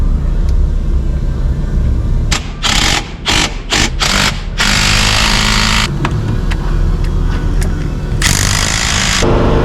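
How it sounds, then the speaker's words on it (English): A loud air compressor runs near a truck repair on a 2006 GMC Sierra 3500 LBZ dump truck, a steady mechanical rattle broken by a series of sharp bursts and hisses. "Sorry for the air compressor."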